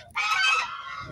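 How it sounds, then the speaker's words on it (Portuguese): Geese in a park, agitated ahead of feeding time, let out a single loud, close honk lasting about half a second. "Quem tá por aqui? Os gansos."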